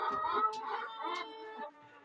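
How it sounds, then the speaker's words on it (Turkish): Soft clucking and gobbling from a few birds outdoors, faint and a little distant, short overlapping calls. "Arkadaşlar tavuklarımızı salmıştık dışarıya. Hint tavuklarımızı."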